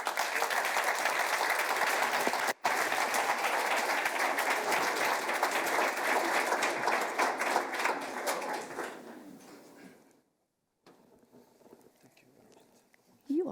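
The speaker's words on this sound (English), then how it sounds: "please give a warm round of applause to Sebastião Salgado" Warm audience applause at a forests and communities conference welcoming a photographer to the stage, dense sustained clapping from a large hall that fades out after about ten seconds, followed by quiet murmuring.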